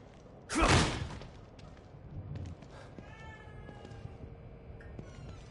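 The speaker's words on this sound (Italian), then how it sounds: "Un gatto." A cat meows faintly in The Evil Within 2, a few soft mewing calls after a loud thump, amid quiet game ambience and small clicks.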